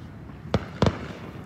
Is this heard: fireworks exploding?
yes